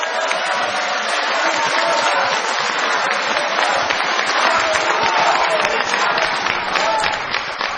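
Sustained applause from a large audience at a party convention in a hall, dense and loud clapping filling the room steadily for several seconds without letting up.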